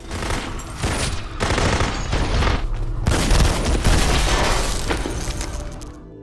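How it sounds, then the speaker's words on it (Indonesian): Rapid bursts of gunfire ring out in an action film shootout, loud volleys of shots and booming impacts in dense clusters with brief gaps, no speech over them. "Anak buah Thomas beberapa kali melancarkan tembakan namun malah salah sasaran."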